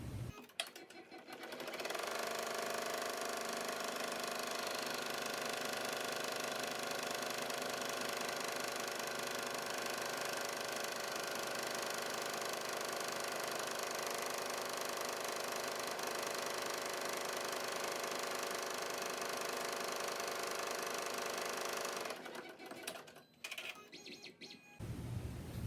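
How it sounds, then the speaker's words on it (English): An embroidery machine stitches placement lines for a contour mask sewn in the hoop. It runs in a fast, steady mechanical chatter for about twenty seconds, close and even, then stops with a few clicks. "now we're going to sew the placement for piece B"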